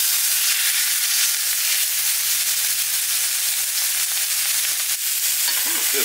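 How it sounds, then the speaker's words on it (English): Beef searing in a very hot pan for Mexican-style beef, a loud, close, unbroken sizzle and hiss over a low steady hum, with no voices. "Just get a nice sear on there and go all the way around."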